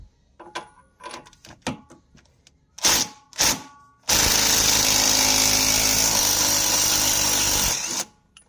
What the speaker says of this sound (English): See if the nut driver can drive it loose.